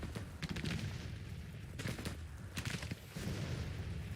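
Civil War battle gunfire in Grand Tactician as Confederate troops engage forward-moved Union cannons: a dense, continuous crackle of massed musketry with scattered sharper reports, steady and moderately distant, no voices.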